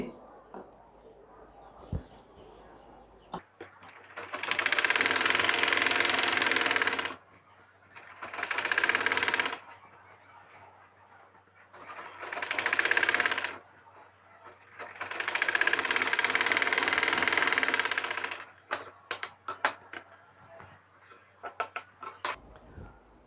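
An electric sewing machine top-stitches a trouser pajama in four bursts of steady whirring, each a few seconds long and close, separated by pauses filled with faint handling clicks and soft talk.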